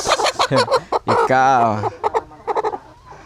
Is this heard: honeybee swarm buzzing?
no